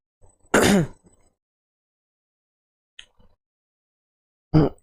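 A single harsh throat clearing from a sore, irritated throat after a cough, up close, followed by silence and a couple of faint brief throat noises, then another short rasp at the end.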